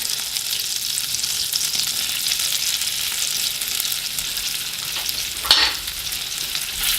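Garlic and scallion sizzle steadily in a hot pan, a dense continuous hiss held for the whole stretch, with a brief louder burst of spatter as the pan is deglazed.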